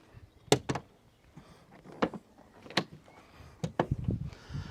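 Rear doors of a VW T5 tin-top camper conversion being opened, giving several sharp latch clunks and thumps spaced over a few seconds, close by, with faint rustling between.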